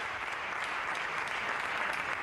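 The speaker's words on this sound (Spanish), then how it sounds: "Pablo Casado está siendo recibido, ya lo han escuchado, con aplausos por miembros de su grupo" Members of the Partido Popular applaud Pablo Casado as he enters a parliamentary plenary chamber, a steady, even wash of many clapping hands heard from a distance without a break.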